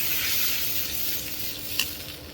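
Ginger-garlic paste sizzling in a pan with fried onions and a splash of water, a steady loud hiss with a brief clink of a utensil near the end.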